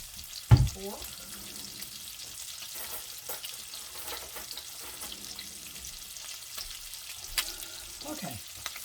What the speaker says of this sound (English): I'm going to let my bacon cook until it gets crisp